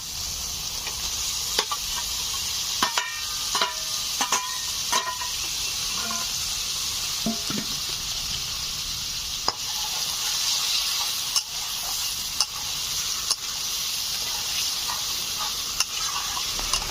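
Boiled Malabar spinach tipped into a hot pan and stir-fried, a steady close sizzle running throughout with scattered scrapes and clinks of a spatula stirring against the pan.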